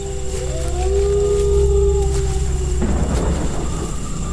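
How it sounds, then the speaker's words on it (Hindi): Strong storm wind howling in gusts around a village, a steady roaring wash with rising and falling moans, loud and continuous, turning rougher and more turbulent near the end. "इतनी तेज हवा, कहीं घर की छत छप्पर ना उड़ जाए।"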